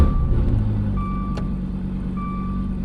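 A 2014 Dodge Viper fires up from cold with a loud, deep engine rumble close by, and a few repeating electronic chime beeps sound over the idle.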